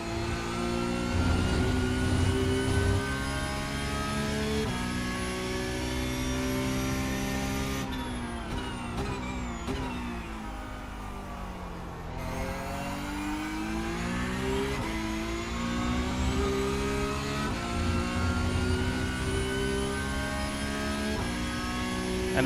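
Porsche Cup race car in iRacing lapping Hockenheim: a loud, continuous engine drone that climbs through the gears with repeated upshifts, briefly drops off under braking, then revs back up hard.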